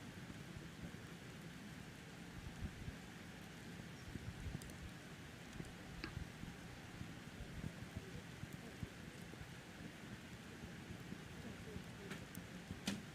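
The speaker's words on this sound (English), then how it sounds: "You can hear the rain coming down now." Rain pours down steadily over an outdoor Olympic archery venue at Tokyo 2020, a dense wash of distant patter with faint low rumbles beneath.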